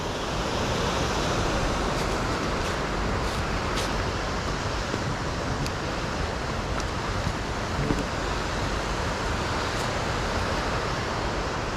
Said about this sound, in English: A lot of little waterfalls and cascades back up in there.